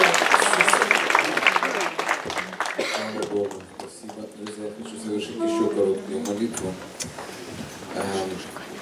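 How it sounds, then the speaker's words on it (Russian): A church congregation applauds during a seminar service, a loud burst of clapping that fades as a voice begins speaking over it. "Аплодисменты Богу Святому."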